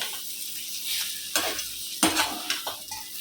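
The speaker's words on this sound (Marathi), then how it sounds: "हलवून घ्यायचं चांगलं हलवून घ्यायचं सगळं वांग्याची भाजी तयार झाली" Brinjal curry being stirred in a pan, with a spoon scraping and clinking against the metal in a few distinct strokes over a soft background sizzle.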